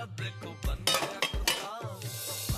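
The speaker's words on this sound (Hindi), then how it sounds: "अब तिवारी जी, कांच के बर्तन टूटे तो आपसे भरपाई लूंगी।" Glass dishes and pots clink and clatter as they are washed by hand in a home kitchen, in irregular bursts of knocks and rattles with some soft background noise.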